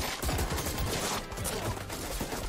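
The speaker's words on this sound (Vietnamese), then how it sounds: "Họ cầm súng điên cuồng nhả đạn," Gunfire in an action film ambush, with several guns shooting wildly: a dense, loud burst of rapid shots and crackling impacts mixed with the film's sound, steady throughout.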